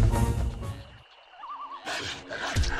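A horse in the video game Knightshift lets out one clear, close whinny, its wavering neigh rising and falling over a brief lull between louder game sounds, with no voices.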